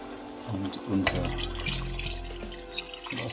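Water runs from a tap and pours into a soup pot for a DDR-style soljanka, a steady splashing stream with clinks of the pot and a voice speaking over it.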